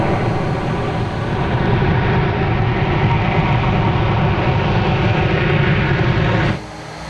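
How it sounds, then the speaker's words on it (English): A Blackburn Buccaneer bomber jet flying, with a loud, steady engine roar close by that holds through the whole clip and then drops suddenly near the end. "Flying this aircraft is superb. It's got enormous power."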